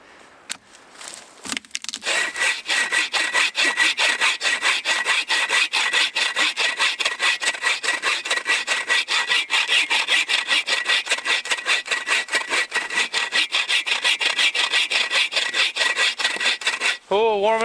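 A hand saw cuts steadily through wood outdoors at a woodland fort. Loud, close, rhythmic rasping strokes run continuously for most of the stretch, with a brief quiet start and a short pause near the end.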